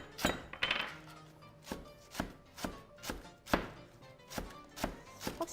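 A heavy Chinese cleaver chops scallions on a cutting board, about a dozen crisp, evenly spaced knocks in a steady rhythm, close and clear with no talk.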